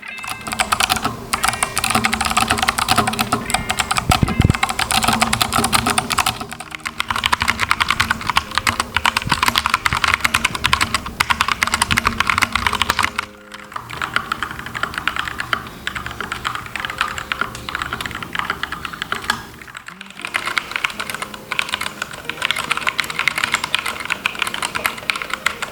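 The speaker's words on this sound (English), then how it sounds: "We've included a typing segment that includes the key profile" Rakk Lam-Ang Pro mechanical keyboard being typed on, a fast, dense stream of close, crisp key clicks and clacks with brief pauses, running steadily for about 25 seconds with no talk.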